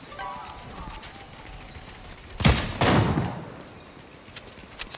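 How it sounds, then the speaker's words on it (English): Gunfire in an online shooter video game, two loud bursts close together near the middle, with quieter game noise and faint voices around them. "That guy that's shooting at you, cracks."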